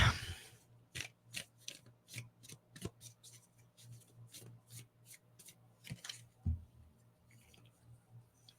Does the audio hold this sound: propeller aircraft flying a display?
no